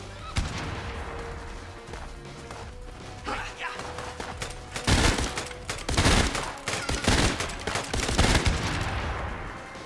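Dense gunfire in the video game Tiny Troopers Global Ops on PS5, rapid cracks and bursts layered over game sounds and growing heavier, with someone talking over it.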